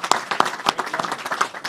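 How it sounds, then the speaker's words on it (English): A press-conference crowd gives a round of applause for the state and its educators, brisk clapping of a modest group with individual claps distinct, close and fairly loud. "So let's give the state and our educators a round of applause"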